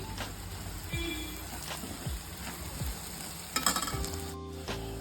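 Half spoons of turmeric and garam masala powder sizzling in a pan of frying masala for coconut sambar, a steady soft crackle with occasional spoon scrapes and stirring taps.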